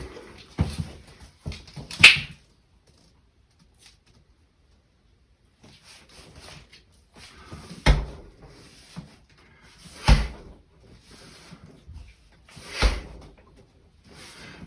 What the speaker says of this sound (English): the dog came over